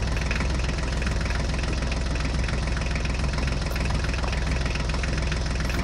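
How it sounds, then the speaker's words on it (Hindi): A Ford tractor engine runs steadily nearby with a dense, even knocking rumble and no pauses, close and fairly loud with no voices. "चलो ड्राइवर, जल्दी से फोर्ड ट्रैक्टर को लेकर चलो।"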